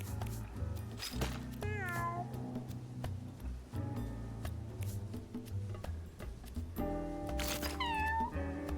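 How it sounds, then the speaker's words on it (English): Cats in the video game Mewgenics give several distinct meows with rising and falling pitch, spaced across the stretch with a loud call near the end, over a steady game music bed. "Meow."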